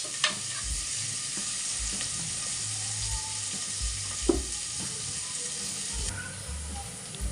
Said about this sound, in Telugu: అవి దోరగా వేయించుకోవాలి.